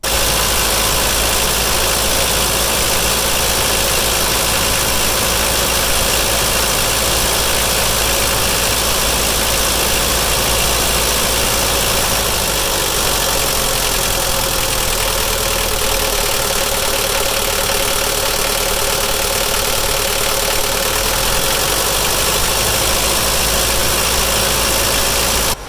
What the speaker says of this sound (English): so now where the idle is kind of where it should be